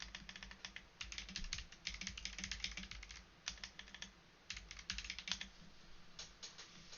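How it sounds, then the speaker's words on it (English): Steady, rapid clicking of a computer keyboard being typed on, with bursts of keystrokes and short pauses, fairly quiet and close, with no voices. "we can put an email in there, and we can type a message"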